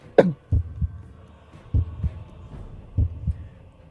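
Heartbeat sound effect in a fantasy role-playing game: three slow, deep double thumps, lub-dub pairs evenly spaced and loud, following a sharp opening hit, with no voices.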